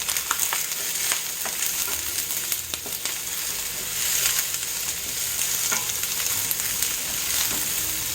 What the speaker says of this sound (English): So we're just going to let the peppers sweat a little bit.